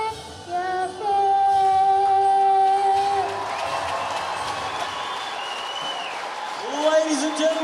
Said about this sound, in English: a huge round of applause to Ethan Hall from Hallmark Music Studios